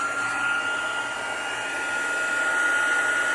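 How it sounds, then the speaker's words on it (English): An embossing heat tool on its high setting blows hot air in a steady, loud whooshing roar that holds constant throughout, with no talking. "then we're going to bring in our heat tool"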